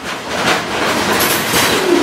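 Freight train passing through a fuel pad, heard from on board as a loud, close, continuous rumble with clattering wheels and a faint squeal near the end.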